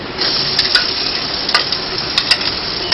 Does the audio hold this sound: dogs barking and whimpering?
no